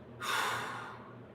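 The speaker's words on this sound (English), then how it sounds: "Nice big breath." A single big, deep breath taken close up during a mobility workout stretch, a long airy rush that starts suddenly and slowly fades over about a second.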